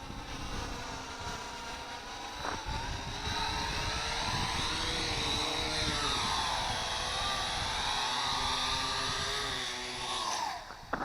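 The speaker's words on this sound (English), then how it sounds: "I like flying this quadcopter." A Syma X8C quadcopter drone buzzes with a steady high-pitched propeller whine as it flies in to land, the pitch wavering as it manoeuvres close by, then cutting out with a clunk at the end.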